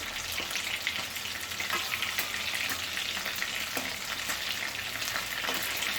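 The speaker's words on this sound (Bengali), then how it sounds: "দেখো আমার মাছ ভাজা হয়ে গেছে প্রায়" Tilapia fish pieces frying in oil in a covered pan give a steady, dense sizzle and crackle that holds at an even level for the whole stretch, close by with no talk.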